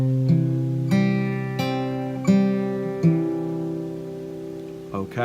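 An acoustic guitar plays a short measure of single plucked notes, each ringing out in a slow, even sequence.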